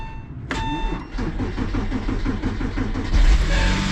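An old Porsche engine, cold after sitting unused for a year, cranks briefly and fires up, settling into a steady, close idle with a rhythmic pulse and a light ticking, the revs swelling near the end.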